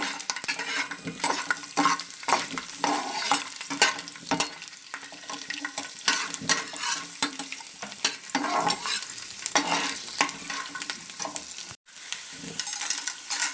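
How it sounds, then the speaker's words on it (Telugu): Garlic fries in a pan for a Telugu bottle gourd chutney, giving a continuous crackling sizzle with frequent sharp ticks of a spoon stirring against the pan. "వెల్లుల్లి వేయించండి వెల్లుల్లి వేసుకోండి"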